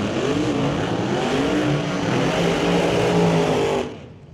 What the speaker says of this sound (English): Side-by-side burnouts, that was looking good.